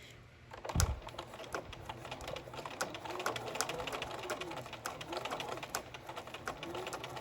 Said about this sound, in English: Start on one of the long sides, leaving a tail, a long tail, and begin sewing.